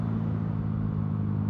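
A carbureted Honda Titan 150 motorcycle with a jet modification idles steadily up close, its engine producing a low, even rumble with no voices, while the bike sits untuned with a soft tire and a dry chain.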